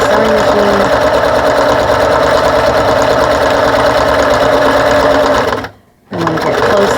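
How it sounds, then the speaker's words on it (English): A sewing machine stitches around a lanyard clip in a loud, fast, continuous mechanical whir. It pauses briefly near the end and then resumes. "Sew all the way around, make sure the clip doesn't come up into the sewing machine."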